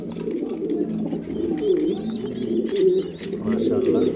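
A male and female pair of pigeons, the male a light silver colour, coo steadily and fairly close, with soft repeated calls over the whole stretch. Other bird chirps and some background noise sit faintly underneath.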